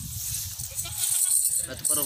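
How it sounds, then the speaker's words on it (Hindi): A goat bleats among livestock, with a wavering nasal cry that rises partway through and then repeats briefly, partly under someone talking nearby. "और ये अबलग बकरी है"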